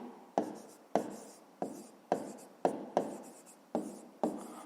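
A pen scratches across paper while working a fifth-grade math exercise: eight quick, evenly spaced strokes, close and fairly quiet, with no talking.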